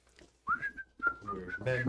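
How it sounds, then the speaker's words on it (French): Someone whistles a short melodic phrase of sustained, gliding notes in two bursts, with faint voices and background murmur underneath toward the end. "Est-ce que vous allez en sifflant?"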